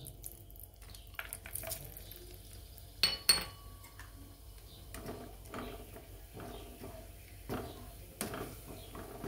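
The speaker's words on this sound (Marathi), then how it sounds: "आपण जे काजू घेतलेले आहेत ते पण तेलामध्ये तळून घेणार आहोत." Cashews frying in oil during paneer veg biryani prep, a quiet close sizzle under scattered clinks and scrapes of a metal utensil against the pan.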